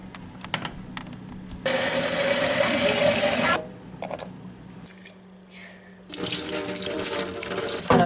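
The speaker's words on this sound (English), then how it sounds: "We're just going to do another rinse and swish again today." Sprouts being grown at home are rinsed under a running kitchen tap at the sink. The water gushes in two loud bursts with a quieter pause between them, and light rattling and swishing of the sprouts is heard in between.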